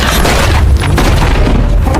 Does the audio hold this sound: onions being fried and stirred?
no